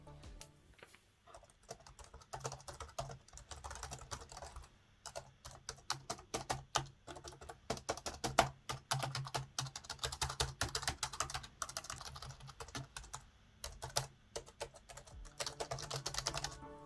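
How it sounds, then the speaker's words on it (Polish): Someone types on a Genesis Lith 400 RGB membrane keyboard, producing close, soft, rapid key presses in an uneven stream with short pauses and no talking. "test pisania na tej klawiaturze. Chciałbym, żebyście posłuchali, jak brzmią klawisze."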